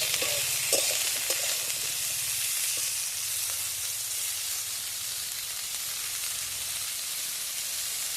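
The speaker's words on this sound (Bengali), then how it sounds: "হালকা হালকা করে ফুলকপি ভেজে নেবো আলুর সাথে নিয়ে" Cauliflower and potatoes fry in a pan with a steady, close sizzle, and a few light stirring clicks come early on. No one speaks.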